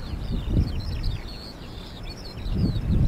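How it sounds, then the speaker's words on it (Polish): Birds sing and chirp in a poppy meadow early in the morning, with faint high, scattered calls over low rustling and handling noise close by. "Cisza, spokój, ptaszki śpiewają."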